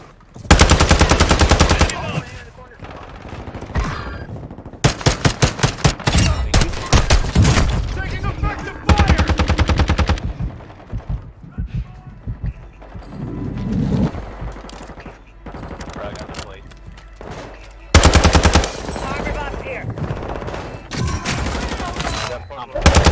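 Automatic gunfire with heavy recoil in a video game, loud close bursts of rapid shots separated by quieter gaps with softer sounds, then a final sustained burst.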